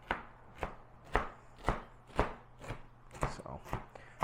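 A knife chops carrots on a cutting board for meal prep, about nine sharp, evenly spaced thuds at a steady rhythm, close and crisp, with a faint background hum.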